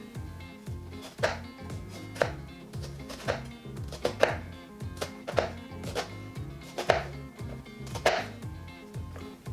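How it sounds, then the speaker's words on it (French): A knife dices an onion on a cutting board in a steady run of crisp, close chops, about a dozen evenly spaced strikes with no talking. "vous n'avez qu'à couper dans ce sens-là et vous allez voir, ça donne des petits dés"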